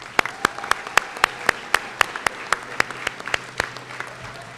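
An audience at a high school graduation ceremony applauds steadily, with sharp individual claps standing out over a softer spread of clapping, heard at a moderate distance without talk.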